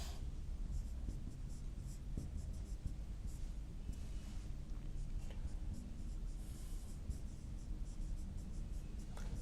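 Chalk or marker writing the EDTA structure on a classroom board, a steady scratchy stroking that runs throughout under low room rumble, fairly close and continuous.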